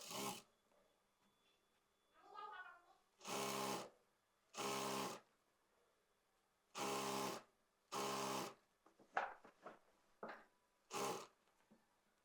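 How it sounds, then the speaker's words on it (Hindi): A sewing machine stitching together pieces of a Pakistani gharara, running in about six short bursts of roughly a second each, separated by quiet pauses with a few small clicks and handling sounds. "मिलाने के बाद यहाँ से हम सिलाई लगाएंगे।"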